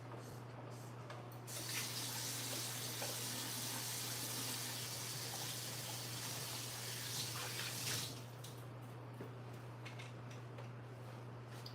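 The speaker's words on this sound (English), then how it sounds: "let's wash my hands" Hands washed under a running tap, a steady close rush of water that swells briefly louder in the middle as the hands move through the stream, over a constant low hum.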